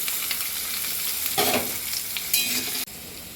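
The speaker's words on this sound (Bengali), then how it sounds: "সবুজ ক্যাপসিকামটা, রেড ক্যাপসিকামটা, টমেটো আর রেড বেল পেপারটা দিয়ে দিলাম। এগুলো দিয়ে একটু সতে করে নেব।" Green and red capsicum, tomato and red bell pepper sautéing in a pan, a steady close sizzle with two louder bursts of crackle as the vegetables are stirred, ending abruptly, no talk.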